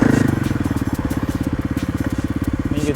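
A Kawasaki KLX 300R dirt bike with an aftermarket exhaust idling close by, a loud, rapid, even thumping pulse with crackly exhaust popping, steady throughout with no talk.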